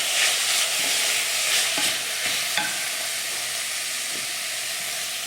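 Cherry tomatoes sizzle in a hot frying pan, a loud steady hiss with a few soft clinks and stirring sounds close by.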